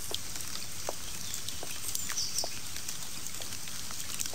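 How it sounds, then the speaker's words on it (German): Soft, steady rain with scattered light drops pattering close by in a radio drama, a faint continuous hiss with no voices. "Der Regen ist ganz warm"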